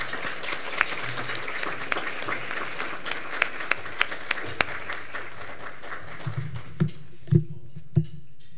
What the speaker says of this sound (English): Can we give another round of applause for Ms. Young?